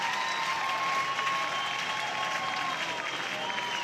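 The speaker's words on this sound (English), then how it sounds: "what's happening when you hear everybody starting to cheer here?" Spectators at a Georgia vs Oklahoma college softball game cheer and applaud a pinch hitter, a steady wash of clapping and crowd noise that holds at an even level throughout.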